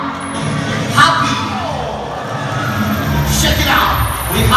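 An audience at a dolphinarium show cheers, yells and whoops in a loud sustained crowd roar, with excited shouts rising and falling over the whole stretch and a voice talking among them.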